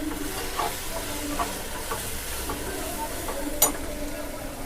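Masala cooks with softened tomatoes in a pan, a steady close sizzle broken by soft scraping stirs and one sharp clatter of the spoon.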